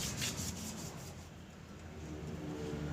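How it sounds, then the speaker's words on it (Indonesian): Continuous rough scraping of sandpaper rubbed back and forth over a motorcycle wheel rim before painting, close and steady, with no talking. "Dan ini kita amplas semua bidang yang bakal kita cat"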